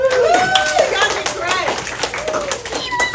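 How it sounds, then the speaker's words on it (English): A small crowd claps steadily while someone speaks over the applause, which continues without a break. "Everybody give volunteers a big round of applause."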